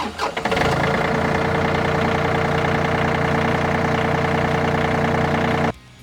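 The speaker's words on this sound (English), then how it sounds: "We then turn on the tractor." A John Deere diesel tractor engine cranks briefly and catches, then settles into a steady, loud, close idle with a constant mechanical hum that runs for several seconds before cutting off abruptly.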